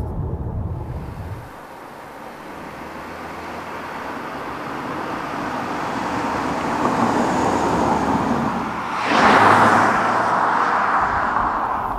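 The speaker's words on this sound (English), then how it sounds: "The engine is really quiet, so I hear the tire and the wind noise a little bit more." Steady broadband road roar from tires and rushing wind inside a Volvo S60 T8 cabin at speed, continuous and moderately loud, swelling briefly near the end, with no voices.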